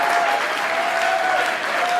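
Audience applause at an education policy panel event, a dense steady clapping wash that fills the whole stretch at close range with no voices on top.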